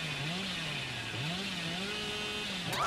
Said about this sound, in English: That was like a very easy chainsaw.